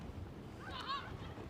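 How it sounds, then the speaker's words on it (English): Steady low wind rumble buffets the microphone outdoors at an American football game between the Solent Thrashers and Leicester Falcons, a continuous broadband roar with faint distant sounds over it. "God, it's windy."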